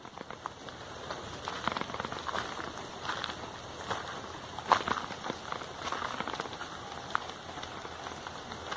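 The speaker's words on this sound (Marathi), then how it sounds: "पाऊस पडतोय" Steady rain patters on surfaces around a house with coconut and cashew plantings, a faint, even wash of drops with occasional sharper taps.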